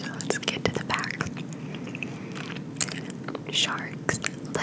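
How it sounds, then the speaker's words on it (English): Close, moist gum chewing with repeated smacking clicks and squelches, heard beneath quiet whispering. "Let me know how the gum chewing is"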